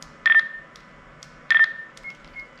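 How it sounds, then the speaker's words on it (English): Electronic key press beeps from a push-to-talk digital radio handset in the style of a Nextel phone: two short bright tone bursts a little over a second apart, then a few fainter, softer blips, close and clear. "even the key press sound when you press the keys, it's just like a Nextel phone"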